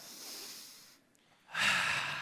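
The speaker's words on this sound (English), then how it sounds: "Take 5 deep breaths." Deep breaths from people in a group exercise, a soft breathy exhale fading out, a brief quiet pause, then a louder, rushing inhale or exhale near the microphone.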